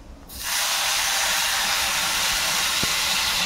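Water poured into a hot pan of deep-fried, reddened potatoes for a potato dal bursts into a loud, steady sizzling hiss that starts abruptly and holds without letting up, close by.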